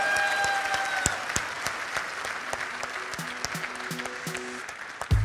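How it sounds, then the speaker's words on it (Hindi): Loud, sustained applause from a large live audience at a trading event with 2,500+ traders, dense clapping filling the room for about five seconds with a few brief tonal sounds early on. "जोरदार तालियों से इनको।"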